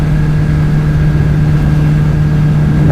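An MV Agusta Brutale 1090RR with an inline-four engine runs at a steady, loud drone with a strong low hum, held at an even pitch without revving, alone and without talk.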